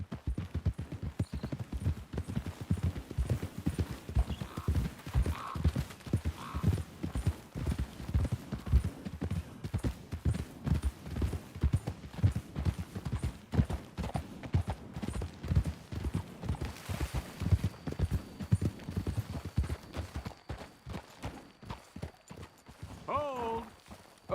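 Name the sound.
horses' hooves clip-clopping while riding in Red Dead Redemption 2 video game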